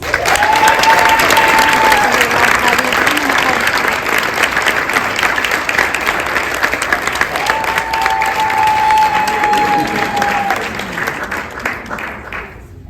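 Sustained audience applause fills a school board meeting room, loud and steady for several seconds before slowly fading out, with a few voices mixed in.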